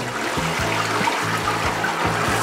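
A toilet flushes with a small turbine fitted inside the flush mechanism. Loud, steady rushing water runs over a low, pulsing hum that repeats in an uneven rhythm.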